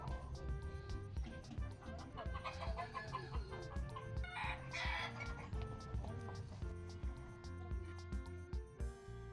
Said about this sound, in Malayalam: പല ഷെഡുകളിലായി ധാരാളം കോഴികളെ ഇവിടെ വളർത്തുന്നുണ്ട്.